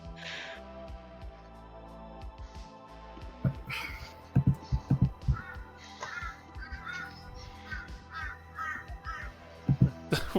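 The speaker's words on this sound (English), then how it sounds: "Sounds like a crow." Crow cawing in repeated harsh calls, several bursts in quick succession with brief pauses, fairly close against a quiet background with faint other noises.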